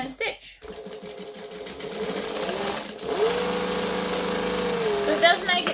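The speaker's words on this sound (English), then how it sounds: "pull the sides together and stitch" A sewing machine stitches the side seams of a laptop case, starting after a brief pause and then running in a steady, close, high-rate whir for several seconds.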